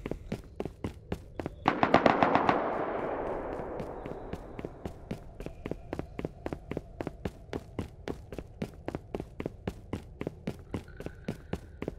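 Explosive ammunition fired in the Rust survival video game: a long run of sharp, evenly spaced gunshot cracks at close range, with a louder burst and roaring blast near the start that decays slowly behind the continuing shots.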